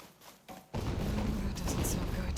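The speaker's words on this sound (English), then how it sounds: "Explosions." Explosions in the video game Horizon Forbidden West: a sudden heavy booming rumble erupts after a short quiet stretch and keeps roaring loudly, with sharp bursts layered on top.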